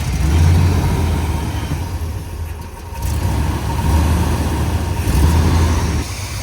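An old Chevrolet K10 truck, off the road for decades, runs its engine at a steady, loud, close idle with a deep rumble that swells and dips slightly.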